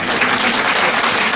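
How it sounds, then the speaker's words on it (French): An audience at a lecture's question-and-answer session applauds the speaker, loud, dense and sustained clapping from many hands filling the short stretch without pause. "Vos applaudissements expriment bien tous les merci"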